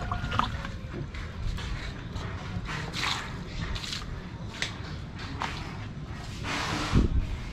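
Fertilizer solution of MKP and KNO3 watered onto potted grape seedlings, heard as intermittent soft splashes and squishy wet patter close by, with brief pauses between pours.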